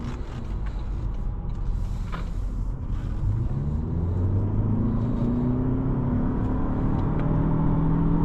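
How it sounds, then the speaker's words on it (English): A 2025 Toyota Camry SE accelerates from inside the cabin, its engine note climbing steadily in pitch over a constant road and wind roar, loud and continuous throughout. "It is actually surprisingly quick. That is good acceleration."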